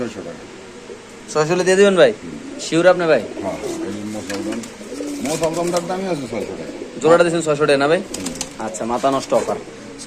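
Pigeons coo at a busy pigeon market, with repeated throaty, wavering calls rising and falling close by, while people talk nearby.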